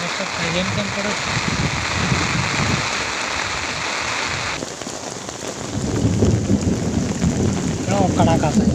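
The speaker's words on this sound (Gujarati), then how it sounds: "કેવો કડાકા છે." Heavy rain hisses steadily while a low rumble of thunder rolls in partway through, with a voice briefly audible over the downpour.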